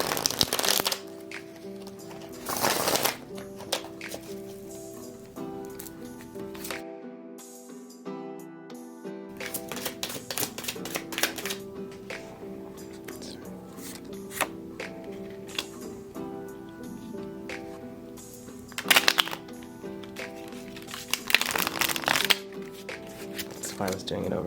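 Tarot cards being shuffled at close range, with repeated riffling and flicking bursts over about 25 seconds and a short pause partway through, while someone talks over them.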